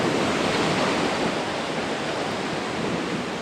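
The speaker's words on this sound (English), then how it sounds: "Big waterfall." A big waterfall in Campbell River, Canada, roars as a dense, steady wash of white noise that fills the whole clip with no talk over it.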